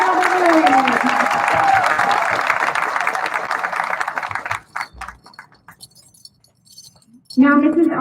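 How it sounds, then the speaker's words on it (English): Audience applause at a school commencement ceremony, dense clapping that fades out over about five seconds, leaving scattered claps and rustles before a speaker begins talking. "Let's give her one more round of applause."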